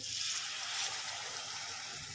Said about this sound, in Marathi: अर्धा ग्लास पाणी टाकलेलं आहे